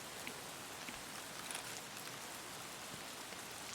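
Steady rain pattering in the shooter game Escape From Tarkov, a continuous, fairly faint hiss of drops on surfaces with no voices.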